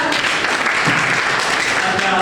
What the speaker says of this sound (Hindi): ताली बजा दिए एक बार